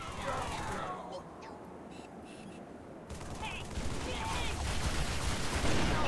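Gunfire in Halo 3 on PC, rapid bursts of shots that pause briefly and then build into heavier sustained fire, with players talking over it.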